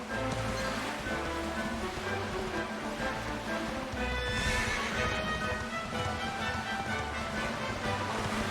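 Horse neighing in the Dragon Quest XI video game, a whinny heard alongside clip-clop hooves over steady game music and ambient sound, moderately loud throughout.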